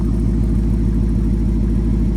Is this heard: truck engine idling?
yes